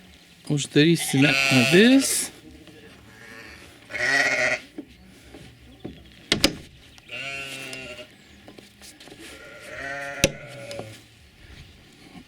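Sheep on a small farm bleat loudly and close by, several drawn-out, wavering calls with short pauses between them, mixed with brief handling noises.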